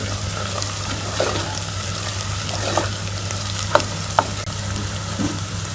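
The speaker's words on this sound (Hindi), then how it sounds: "इसे 1 मिनट के लिए हम प्याज के साथ अच्छी तरह से लहसुन अदरक को भून लेंगे" Steady sizzling of garlic and ginger frying with onions in a pan, with occasional stirring scrapes and small pops, close and continuous, no talking.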